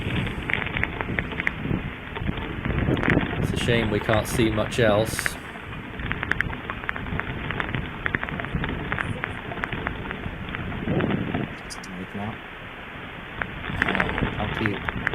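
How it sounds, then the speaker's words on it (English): Heavy rain pours steadily during Hurricane Agatha's Category 2 landfall, a dense continuous wash under someone talking, with gusty bursts of wind rising and falling. "that's a lot of rain falling"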